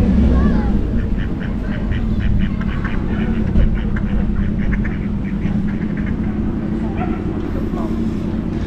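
Ducks quacking in the middle of busy seaside Hunstanton, repeated nasal calls in bursts over a steady crowd and traffic murmur, with people talking nearby.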